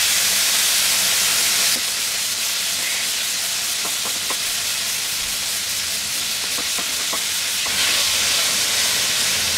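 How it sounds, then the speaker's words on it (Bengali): Beef pieces coated in cornflour frying in hot oil for Chinese beef chili, a loud continuous hiss and sizzle, with faint clicks of stirring in the middle. "এগুলাকে আমি একটু ভাজবো।"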